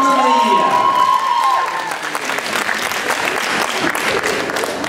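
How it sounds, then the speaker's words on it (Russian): Audience applause at a university singing contest in a hall, loud sustained clapping with some cheering, filling the whole stretch without fading. "А ваши аплодисменты, Анна Мария!"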